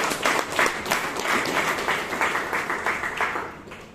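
Brisk applause from a small room of attendees at a Toastmasters club meeting, many hands clapping in a close, steady patter that fades slightly toward the end.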